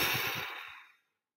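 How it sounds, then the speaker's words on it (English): One long, calming breath is blown out close up. It is a soft, breathy whoosh that starts strong and fades away to silence within about a second. "Blow out that big breath."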